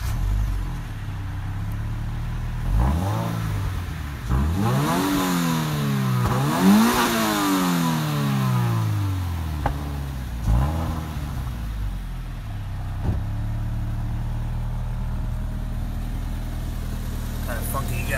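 A 2018 Subaru BRZ tS engine revs repeatedly while driving, rising and falling through several loud sweeps before settling into a steady drone, with speech over it.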